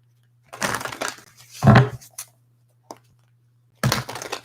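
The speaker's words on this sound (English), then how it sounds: "I'm going to shuffle up cards and see what messages come through" A deck of tarot cards being shuffled by hand, several separate riffling and crinkly bursts with short pauses between them, close and fairly loud over a steady low hum.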